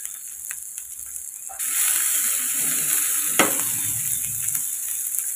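Spices with sugar, turmeric and coriander powder fry in a pan for a potato-pea curry; a quiet sizzle swells suddenly louder partway through, with a sharp stir or scrape, then a steady close hiss.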